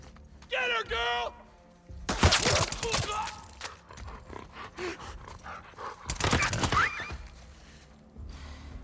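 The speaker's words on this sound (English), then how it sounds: "There's a dog." A dog in The Last of Us Part II barks in a few sharp bursts amid rustling and scuffling game noise, with a voice briefly calling out between the barks.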